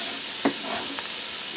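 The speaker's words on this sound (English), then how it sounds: "We're going to get it in there and get it frying." Diced onion frying in olive oil in a Copper Chef XL skillet, a steady close hiss of sizzling with a couple of faint stirring scrapes, no voices.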